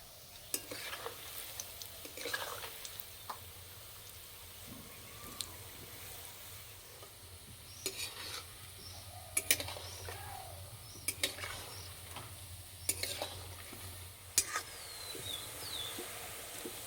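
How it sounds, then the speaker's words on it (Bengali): Ripe jackfruit fritters frying in oil over medium heat give a steady, soft sizzle throughout, broken by sharp intermittent clicks and scrapes of stirring in the pan. "ভাজার সময় খুব একটা বেশি জোরে জাল দিলেও হবে না, আস্তে জাল দিলেও হবে না, মাঝারি আঁচে ভেজে নিতে হবে।"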